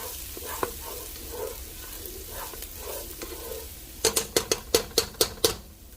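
Garlic frying in a pan over medium heat for American-style goulash, a soft steady sizzle with occasional stirs, then a rapid run of sharp rhythmic taps of a utensil against the pan near the end.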